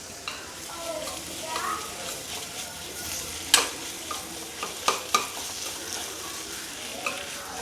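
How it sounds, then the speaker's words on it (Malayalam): Smashed chicken and potato sizzle softly in a hot pan, with occasional sharp clinks of a utensil stirring against the metal. "സ്മാഷ് ചെയ്തിട്ടുള്ള ചിക്കനാണ് ഇട്ട് കൊടുക്കുന്നത്."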